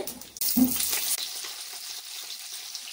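Mustard seeds and cumin crackle and sizzle in hot oil for a tempering, a loud, steady hiss that bursts up at the start and then settles into a continuous close fry.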